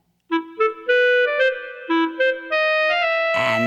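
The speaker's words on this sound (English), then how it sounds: "There's also a mischievous raven represented by the clarinet." A clarinet plays a short, playful melody of separate notes rising and skipping, clear and solo, as the theme of a mischievous raven in a Hansel and Gretel musical telling, ending on a sustained note.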